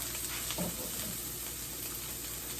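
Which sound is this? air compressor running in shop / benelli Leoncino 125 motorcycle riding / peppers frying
peppers frying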